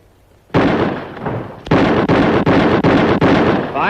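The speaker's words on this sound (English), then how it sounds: "5 shots, 5 seconds." A rifle fires five quick shots in about five seconds in a shooting contest, each a loud close crack that comes in an even rhythm with no one talking.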